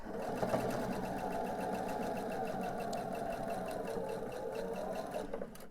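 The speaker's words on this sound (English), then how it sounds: "I'm going to go ahead and get on over to my sewing machine" A sewing machine stitches steadily and continuously while piecing quilt pillowcase blocks, a fast mechanical whirring hum that runs the whole time at low volume before stopping at the end.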